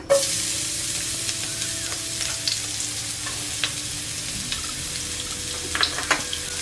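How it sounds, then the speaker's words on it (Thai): Garlic stir-frying in a pan: a continuous loud sizzle with scattered scrapes and clicks of a utensil stirring, close and steady with no talking. "เดี๋ยวก่อนอื่นเราจะมาเริ่มผัด อันนี้เป็นกระเทียมนะคะ"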